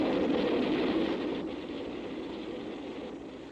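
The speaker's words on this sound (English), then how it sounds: "As this train approaches, let's see how close it comes before we hear it." A steady, rumbling roar of a train rolling along the tracks, fairly close and continuous, easing slightly in loudness toward the end, with no voices.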